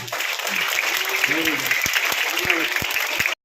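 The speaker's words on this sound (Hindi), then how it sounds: "इसके जो भी कक्षा अध्यापक है उनके लिए एक बार तालियां बजाएं जोर से" Students at a school environmental poetry recitation competition break into loud, steady applause for the class teacher, with a few voices audible beneath the clapping before it cuts off abruptly.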